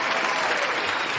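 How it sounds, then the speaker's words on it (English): A studio audience on a local talk show breaks into brief, loud, steady applause, many hands clapping together in a dense burst. "Let me get some hand claps for that."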